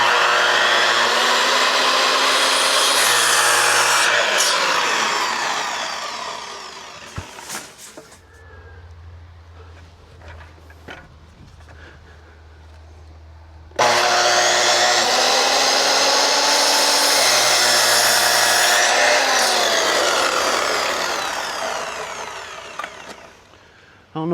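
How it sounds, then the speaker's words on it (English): A power saw cuts wooden studs for a small DIY storage shed build, two long loud whining cuts rising and falling in pitch, separated by a quieter gap with lower motor hum and faint knocks. "It looks like he's preparing for me to start cutting the studs down"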